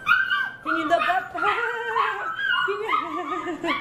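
Shepadoodle puppy yipping, barking and whimpering close by in a busy, continuous run of high, wavering dog calls, with no clear talk over them.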